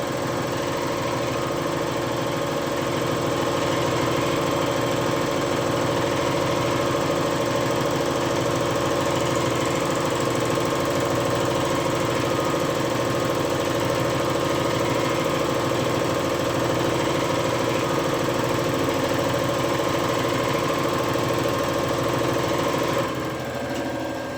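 The engine of a Kia Bongo III Euro 4 truck with a check engine fault runs at a steady idle during a fuel injector test, a loud continuous rumble with a rhythmic knock that cuts off near the end.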